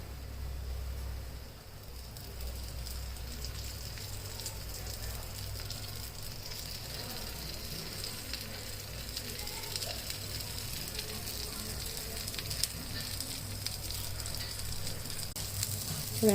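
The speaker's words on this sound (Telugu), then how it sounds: "చూడండి ఫ్రెండ్స్, చికెన్ వేస్తున్నాను" Onions and chicken frying in a hot pan for chicken dosa, a steady broadband sizzle that runs throughout at moderate level with no talk.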